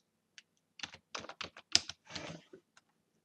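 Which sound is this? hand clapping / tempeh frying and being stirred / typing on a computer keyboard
typing on a computer keyboard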